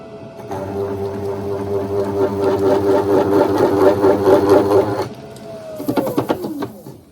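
Wooden bowl spinning fast on a lathe while a tool chatters across it, a loud steady whirring hum with a rapid rattling texture for about five seconds, then the motor winds down.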